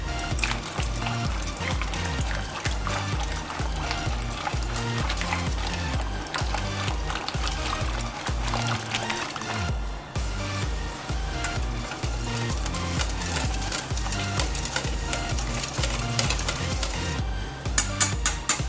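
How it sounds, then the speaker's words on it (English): Batter for an Indian-style onion pancake is stirred with salt in a bowl, giving a continuous close scraping and slapping that never stops, with no talking. "Add salt to this mixture and mix well."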